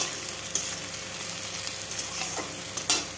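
Boiled potatoes for ghugni frying in a pan while being stirred, a steady close sizzle with scraping stir strokes and a couple of sharper clatters, no talking.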